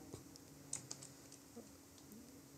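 Light, scattered keyboard typing while writing HTML code for an Angular project, a few soft, close taps with pauses between them over a quiet background.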